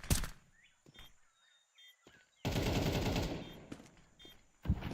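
Automatic rifle fire in a Counter-Strike match, barraging a bomb planter: short bursts at the start and a sustained loud volley midway, with clicks and thuds between them and no talk.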